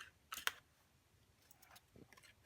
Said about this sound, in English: And you're just going to punch.